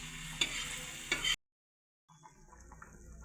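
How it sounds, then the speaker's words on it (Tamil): Paneer and cauliflower gravy bubbles and sizzles in a pan, a close, steady cooking hiss with a few sharper pops. It cuts out briefly, then returns softer. "குழம்பு நல்லா கிரேவி கொதிக்குது."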